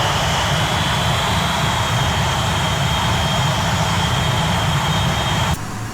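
The Avro Vulcan's jet engines roar steadily in the X-Plane 11 flight simulator game, a loud continuous drone with a high whine on top that shifts slightly near the end, and no speech is heard.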